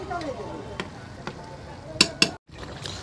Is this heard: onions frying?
yes